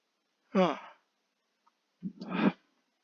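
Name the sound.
yawn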